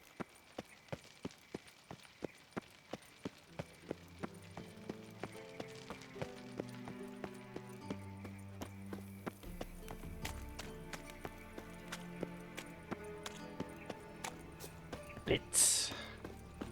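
Steady horse hooves clip-clop at an even walking pace in The Witcher 3: The Wild Hunt, with game music underneath and a short burst of noise near the end.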